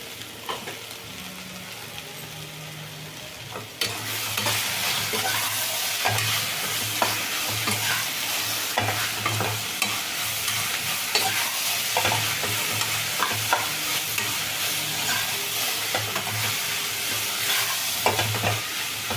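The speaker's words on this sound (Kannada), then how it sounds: "ಬೆಂಡೆಕಾಯಿ ಇನ್ನೂ ಒಂದು ಸ್ವಲ್ಪ ಫ್ರೈ ಆಗಿದೆ" Okra frying in a pan with salt and turmeric gives a loud, constant sizzle, while a spoon stirs and scrapes in a regular rhythm throughout; the sound begins more quietly before the frying intensifies.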